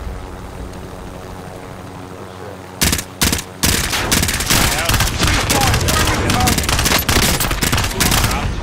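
AUG rifle fire in Call of Duty: Warzone: a couple of short bursts, then sustained rapid automatic gunfire, loud and close, for several seconds.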